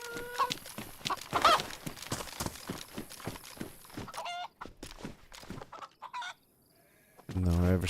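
Chicken in the medieval survival game Livonia, a few short clucks and fowl calls amid footstep-like clops and game noise, with a brief burst of sound at the end.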